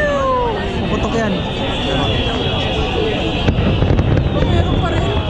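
A 2018 fireworks display in Abu Dhabi crackles and whistles continuously at a distance, a dense wash of pops with rising and falling tones, under a nearby crowd's chatter and talking.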